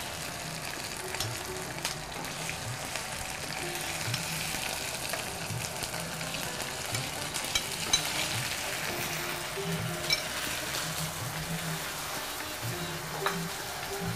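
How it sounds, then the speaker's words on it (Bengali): Marinated chicken frying in a pan gives a steady, fairly close sizzle and crackle throughout, with occasional stirring noises and no talk. "আমাদের মাংসটা প্রায় ভাজা ভাজা হয়ে এসেছে"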